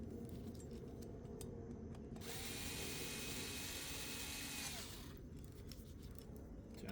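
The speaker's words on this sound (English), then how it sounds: "So now I'm gonna use my power tool to speed up the process." Power tool running steadily for several seconds as it drives sprocket bolts during a sprocket replacement on a CYC X1 Pro Gen4 e-bike motor, with a continuous close whine and mechanical buzz and no talk.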